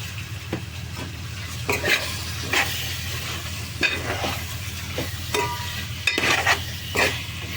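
Prawns frying in a pan with onions, salt and turmeric for a Telugu prawn curry, with steady sizzling and repeated scraping stirs that sound close and fairly loud, with no talking.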